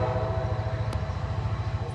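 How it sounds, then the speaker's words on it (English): Cuyahoga Valley Scenic Railroad passenger train passing through the Beaver Marsh, a close, rumbling rhythmic clatter of wheels on rail joints with a steady low drone, heard alone. "That's the train."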